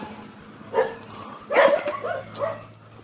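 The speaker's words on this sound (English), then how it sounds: "So many dogs." Several dogs bark in short, separate bursts at moderate distance, with a few yips among them, over a quiet outdoor background.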